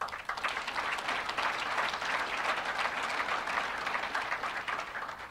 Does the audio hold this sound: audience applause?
yes